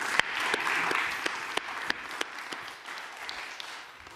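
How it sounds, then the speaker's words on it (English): Audience at the DappCon24 conference breaks into applause for the next speaker, a dense, even wash of clapping with a few sharper nearby claps standing out, moderately loud, tapering slightly toward the end. "everyone give a big round of applause for Ivo."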